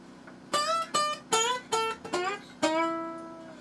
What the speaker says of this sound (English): That's the sound of the steel slide